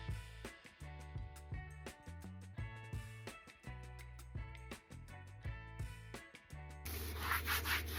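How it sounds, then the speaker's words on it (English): Paper is rubbed over a gelli plate print to blot off excess ink, giving close, continuous rubbing strokes in a steady back-and-forth rhythm, with no voices. "Next stage is to blot it to get rid of excess ink."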